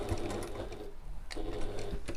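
A domestic sewing machine back stitching through fabric on an evening bag, with two short bursts of rapid stitching separated by a brief pause, close and fairly quiet.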